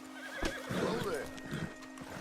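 A horse in the Red Dead Redemption 2 video game whinnies with a wavering high call while its hooves clip-clop steadily underneath, close and clear, with someone talking over it.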